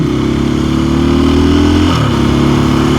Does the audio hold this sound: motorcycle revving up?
yes